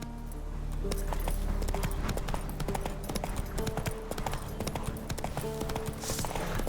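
Horse hooves clip-clop in a steady walking rhythm in The Witcher 3, a continuous run of close, moderately loud hoofbeats with faint background game ambience and no speech.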